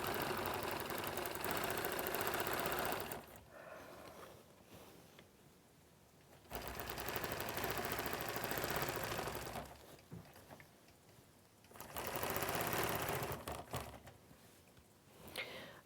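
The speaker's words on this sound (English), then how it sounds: "now I'm coming back and I'm stitching in the ditch around all of the half" A sewing machine stitches in the ditch around the blocks of a quilted wall hanging with variegated cotton thread, its motor running in three loud sustained bursts separated by quieter pauses.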